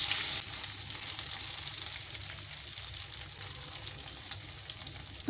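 Green chillies frying in oil over a low flame, a constant close bubbling sizzle that stays even and moderately loud for the whole stretch.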